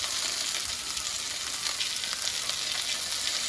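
Sausage sizzling in a frying pan on a stovetop burner, a steady, fairly quiet hiss with faint crackles and no talking.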